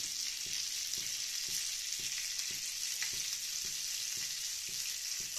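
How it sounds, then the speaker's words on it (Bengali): Shrimp and dried red chillies fry in hot oil in a pan, giving a continuous bright sizzle with regular soft stirring knocks and no talk. "মোটামুটি চিংড়ি মাছ ভাজা হয়ে গেছে আমাদের।"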